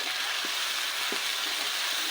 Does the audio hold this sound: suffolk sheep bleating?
no